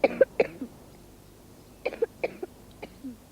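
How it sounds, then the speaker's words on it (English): A child demonstrates deliberate coughing in a gentle educational setting: two quick coughs near the start, then after a pause a cluster of three or four short coughs, close and moderately loud, with no talk. "It's easy to cough."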